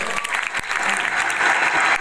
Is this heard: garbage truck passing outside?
no